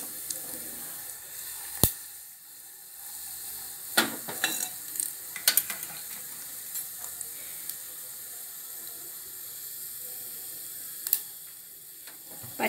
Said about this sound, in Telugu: పోపు వేసుకున్నానండి, వేగుతుంది కొంచెం.